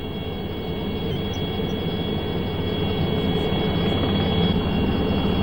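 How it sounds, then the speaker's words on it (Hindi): An air force helicopter drops food packets over flooded Chennai in bad weather, its steady loud engine and rotor roar continuing unbroken, with a high whine on top and no voices. "हेलीकॉप्टर से फूड पैकेट गिराए जाने लगे"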